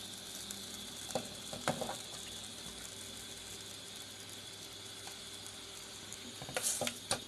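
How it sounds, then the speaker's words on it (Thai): Beef simmering in coconut curry with pumpkin and kaffir lime leaves, a soft steady bubbling hiss throughout with a few faint clinks of stirring utensils. "เราใส่เนื้อลงไปแล้วเราก็ เคี่ยวเนื้อ ให้มันสุก"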